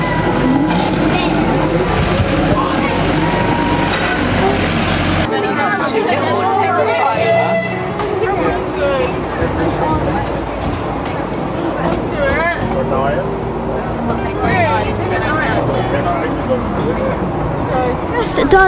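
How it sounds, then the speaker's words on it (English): The Cotswold Wildlife Park miniature train ride rumbles along under loud, continuous crowd chatter and babbling voices of passengers nearby, with a steady rolling noise throughout. "Just done the Cotswold Wildlife Park train."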